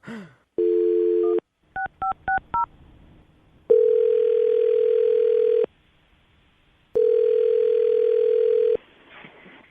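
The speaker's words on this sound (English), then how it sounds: "you ready to make the phone call?" A telephone call being placed: a steady dial tone, then a quick run of DTMF keypad beeps, followed by two long ringback tones separated by silence, clear and close.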